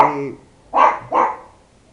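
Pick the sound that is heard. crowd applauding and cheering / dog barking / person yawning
dog barking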